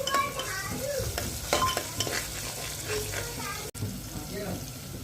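A tempering of garlic and onion crackles in a hot pan, a dense near sizzle with scattered stirring taps and a brief cut in the sound partway through.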